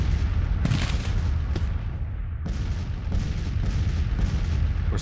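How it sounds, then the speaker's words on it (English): Artillery battery fire in the Grand Tactician: Civil War strategy game, set in an 1862 Confederate campaign battle near Louisville, with repeated deep booms over a continuous rumbling battlefield roar. "Of course, the battery's firing on him,"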